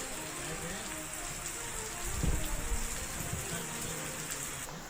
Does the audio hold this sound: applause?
no